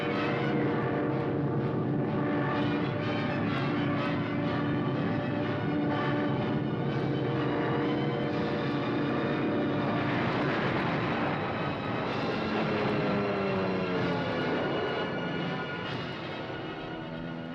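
World War II military aircraft engines drone steadily overhead, a loud continuous throbbing roar with shifting pitch as the planes pass, no voices present.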